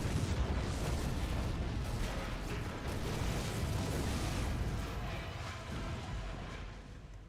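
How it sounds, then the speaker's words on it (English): A big explosion aboard a ship in the StarCraft video game, a dense rumbling roar of blasts and debris that stays loud and continuous before slowly easing off toward the end, with no speech. "Epic explosion! Which should have destroyed the entire ship."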